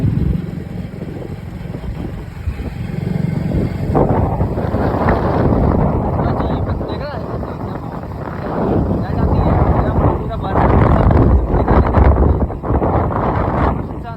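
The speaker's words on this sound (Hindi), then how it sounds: "हवा चल रही हो तेज" Strong wind roars steadily into the microphone during a night ride along a jungle road, a loud, continuous buffeting rush that swells and eases for the whole stretch.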